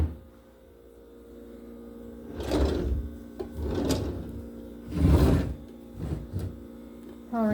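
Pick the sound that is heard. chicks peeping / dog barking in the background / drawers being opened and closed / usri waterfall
drawers being opened and closed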